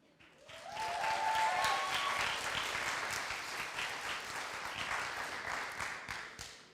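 Audience at a high school AVID graduation applauding a student, a swell of steady clapping with a few cheers that rises quickly and holds before easing, no talking.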